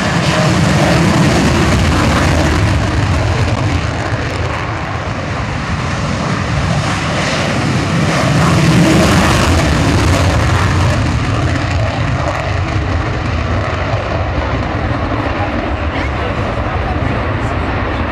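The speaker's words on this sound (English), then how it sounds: "You'll see two aircraft just coming from your left there, two Tornadoes." Two Tornado jet aircraft roar past at the 2010 Waddington air show in a broad, loud rush of engine noise that swells and fades, with a voice talking faintly underneath.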